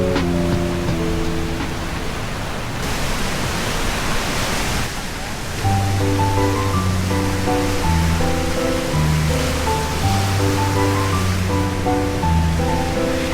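Winter ocean waves wash up on the shore at Hwajinpo beach in Goseong with a broad, steady rushing surf. A melodic music track plays over the waves for most of the clip.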